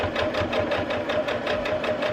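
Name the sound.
sewing machine stitching a folded star potholder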